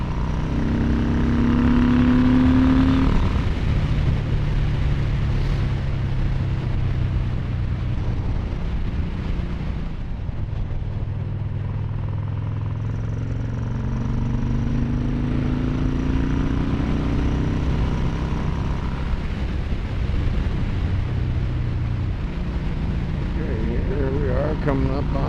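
A Yamaha Bolt motorcycle with a less muffled exhaust drones steadily while riding up Bouquet Canyon, engine pitch rising and falling with gear changes, heavy wind rush throughout.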